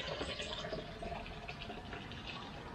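Liquid pours into an ice cream maker with ice, a quiet continuous splashing and trickling fill heard up close for a few seconds.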